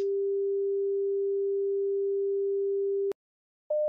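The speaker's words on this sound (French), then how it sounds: "Deuxième son à 400 Hz." A clean, steady 400 Hz sine tone sounds alone for about three seconds, stops with a click, and after a short silence a slightly higher tone begins.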